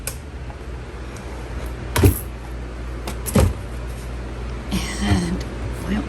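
A kitchen drawer in a farmhouse-style apartment kitchen is opened and shut, giving three short knocks and slides spaced a second or two apart over a faint room hiss.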